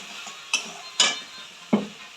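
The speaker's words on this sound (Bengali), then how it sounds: "এর মধ্যে একটু জল দিয়ে দেবো কারণ মশলাটা বসে যাচ্ছে তো তার জন্য দিয়ে ভালো করে নাড়িয়ে নিলাম" A spoon stirs masala in a pan after water has been added for an egg poach curry, giving three separate scraping clinks and knocks against a quiet simmering background, close by with no talk.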